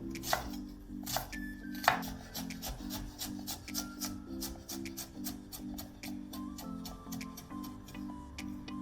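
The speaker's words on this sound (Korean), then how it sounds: "양파를 찹해줍니다" Onion being chopped with a knife on a board, a quick regular run of crisp taps over a soft, steady musical background, with no voices.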